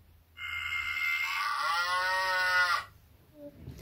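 A single long cow moo, loud and close, rising into a drawn-out lowing call before stopping abruptly.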